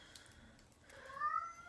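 A cat meows faintly once, a short rising call near the end, against quiet room background.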